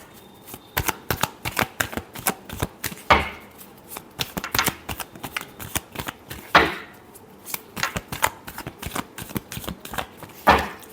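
Tarot cards shuffled by hand in a quick run of crisp riffling bursts and slaps, several louder riffles standing out, close and alone with no talking.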